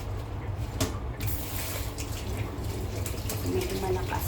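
A kitchen tap runs in a steady, close gush while used dishes are washed, a constant hiss with occasional clatter, and a voice may talk faintly underneath.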